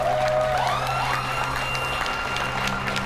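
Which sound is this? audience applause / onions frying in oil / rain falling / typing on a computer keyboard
audience applause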